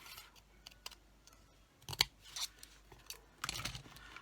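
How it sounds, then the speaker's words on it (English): Scissors cut through paper for a papercraft project: a few quiet crisp snips, then a louder sharp cut and a brief rustling crunch near the end, heard close up without talk. "what I do here is I cut that in half"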